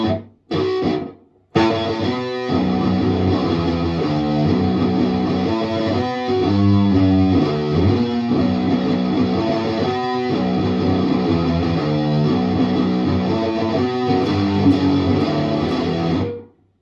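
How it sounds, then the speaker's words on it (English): Electric guitar playing the verse riff of a song on the two lowest strings, with distorted tone and palm-muted chugs between accented chords, steady and loud for about fifteen seconds after a few short opening hits. "Okay, so then we jump into the verse, which will sound something like this."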